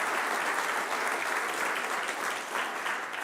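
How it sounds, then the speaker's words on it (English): A conference audience at a live AI event applauds volunteers: a continuous, even round of clapping from a fairly large crowd, moderately distant and steady to the end. "Tanya and Roger, can we give a big round of applause for them?"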